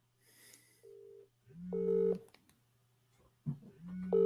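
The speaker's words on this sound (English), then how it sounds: "Let me phone Flawless." Phone call tones while ringing someone: repeated electronic beeps and tonal pulses in short bursts, close and fairly clear, with faint background noise between them.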